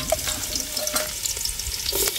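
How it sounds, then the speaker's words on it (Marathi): Spices crackle and sizzle in hot oil over a makeshift outdoor clay stove, a close, busy frying hiss with scattered pops and stirring sounds, and no voices. "चूल मस्तपैकी तापली आता आणि आपण जबरदस्त फोडणी देतो"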